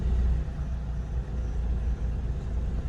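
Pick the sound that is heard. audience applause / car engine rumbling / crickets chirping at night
car engine rumbling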